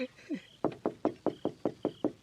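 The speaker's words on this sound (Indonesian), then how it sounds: "Biar aku ketuk saja pintu kamar ini." Eight crisp knocks land on a bedroom door in an even, quick rhythm, close and moderately loud, after a few faint preceding sounds.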